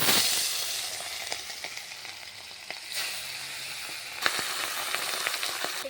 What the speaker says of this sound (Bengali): গরম হয়ে গেছে মাছগুলো ভেজে নিচ্ছি